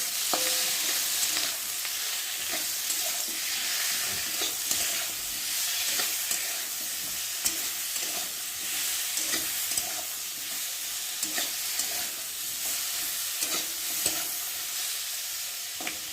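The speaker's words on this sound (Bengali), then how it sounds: "হলুদ গুঁড়ো আর জিরে গুঁড়ো আর কেটে রাখা টমেটো দিয়ে ভালো করে কষিয়ে নেব" Capsicum stir-frying in a pan with turmeric, cumin and chopped tomato, a steady bright sizzle running throughout with scattered scraping clicks from stirring, close and continuous with no voices.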